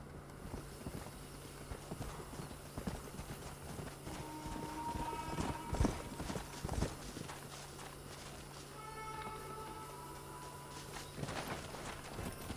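Horse hooves clip-clop steadily at a gallop in the Western video game Red Dead Redemption, a quiet rhythmic patter over a faint steady hum, with a brief whinny-like tone midway.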